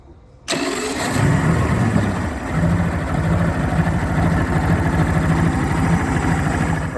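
A used outboard motor on an Aquasport 196 skiff fires up after a brief quiet and settles into a steady, loud, close running drone with a fast low pulsing rhythm, no talk.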